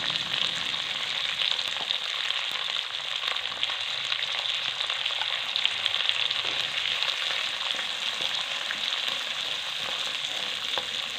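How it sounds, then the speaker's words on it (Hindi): Capsicum and mixed vegetables fry for egg fried rice, a loud, even, close sizzle that runs unbroken with faint crackles and light stirring. "थोड़ा सा हम इसको भूनेंगे"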